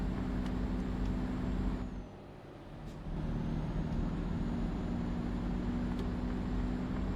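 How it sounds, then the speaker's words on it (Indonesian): In Euro Truck Simulator 2, a steady heavy truck engine drones with rumbling road noise, briefly dipping in the middle before the passing truck's roar returns just as strongly. "Ada truk kenceng banget truk ini"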